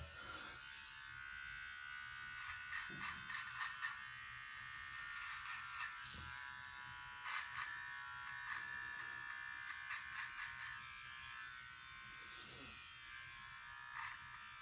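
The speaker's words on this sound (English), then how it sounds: "use your detailer to detail. Take off a little bit of that bulk underneath." An electric beard detailer trimmer runs as a steady, close, high-pitched buzz while trimming a short beard, with faint brushing as it passes over the hair.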